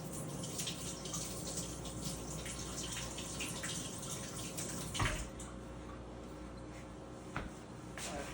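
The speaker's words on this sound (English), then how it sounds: "we're going to rinse him out." Chicken rinsed under a running kitchen tap, a steady close rush of water with splashing that shifts as the bird is turned, plus a couple of brief knocks, no talk.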